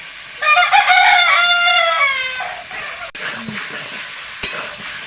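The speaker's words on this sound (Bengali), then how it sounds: "এটা ভালো করে কষিয়ে নেব মাংসটা" Chicken meat sautéing with salt and turmeric for chicken biryani, a frying hiss in the pan with a rooster crowing loudly nearby at the start, followed by quieter sizzling and stirring.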